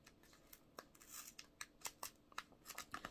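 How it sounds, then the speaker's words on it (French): Titanium non-stick scissors snip through paper for a scrapbooking craft, a close series of crisp, sharp cuts in an irregular rhythm, some in quick pairs, with no talking. "je découpe avec mes ciseaux qui sont en titane, qui sont anti-adhésifs pour les trucs de collage"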